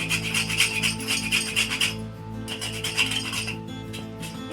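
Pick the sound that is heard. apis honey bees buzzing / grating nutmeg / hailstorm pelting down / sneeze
grating nutmeg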